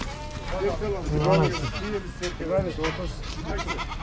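Goats at the Uzynagash livestock market bleat repeatedly in wavering, nasal calls, several animals close by and fairly loud, with people talking and the crowd murmuring throughout.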